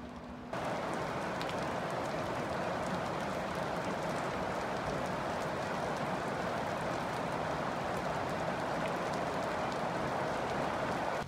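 Heavy rain pours down steadily on a farm and drums at an even, dense roar that starts suddenly and keeps going without a break. No voices can be heard.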